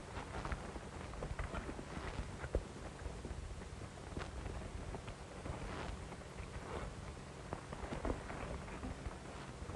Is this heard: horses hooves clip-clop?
yes